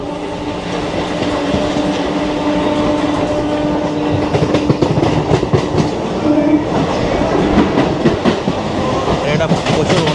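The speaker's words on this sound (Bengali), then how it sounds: "ফাইনালি বেলুড় স্টেশন থেকে ছেড়ে দিয়েছে ট্রেন আমাদের।" A local train pulls out of Belur station in India on the Howrah–Tarkeswar line, loud and close, with a continuous rumbling roar and rhythmic clickety-clack of wheels over rail joints, people talking underneath.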